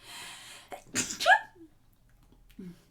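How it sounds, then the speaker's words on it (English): A single sharp sneeze bursts out after a quick indrawn breath, close to the listener, followed by a faint sniff. "Wait, I'm going to sneeze"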